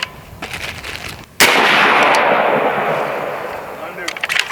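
A single sharp, loud blast from an AEA Zeus .72 caliber airgun, followed by a long, gradually fading rushing tail; softer background sounds before and after.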